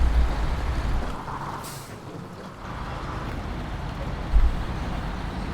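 Heavy off-road truck grinds along in SnowRunner, a steady low engine rumble with a hiss of air brakes midway and a brief thump near the end, no voices.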